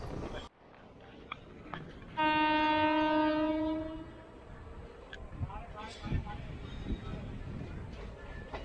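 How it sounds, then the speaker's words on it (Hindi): Katihar Howrah Express pulling into Harishchandrapur station, a long loud horn blast sounding over the rumble and clatter of the train, with soft rail noise continuing after it fades. "और ये ट्रेन पहुंची आपका हरिश्चंद्रपुर।"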